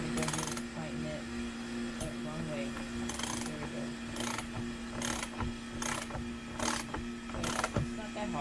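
A 9/16 socket ratchet tightens a screw while a wrench holds the other side during a makeshift scaffold build, giving repeated sharp ratcheting clicks in bursts over a steady mechanical hum.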